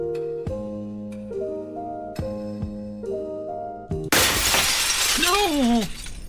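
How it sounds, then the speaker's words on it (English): Glass shatters suddenly in the video game Promises to Keep, a loud bright crash that cuts off soft tonal music and trails into scattered debris with a rising, bending tone afterward. "The sound of shattering glass wrenches me awake."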